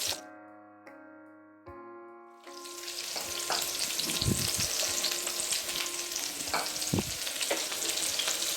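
Curry leaves, green chilli and coriander hit hot oil in a pan for a South Indian rasam: after a few ringing metallic clinks, a loud sudden sizzle bursts up and crackles on steadily, with some stirring knocks.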